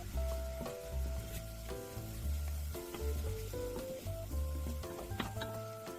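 Steady, close sizzling of onions and seasoning sauce stir-frying in a hot pan for braised tofu, with bursts of scraping and clattering as it is stirred.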